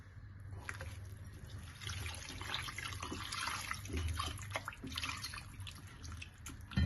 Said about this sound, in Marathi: आता आपण हे 2 पाण्याने स्वच्छ धुवून घेणार आहोत।